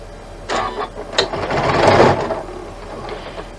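A domestic sewing machine stitches a seam along a folded and pressed quilt block piece, running as a short steady mechanical whir of about two seconds.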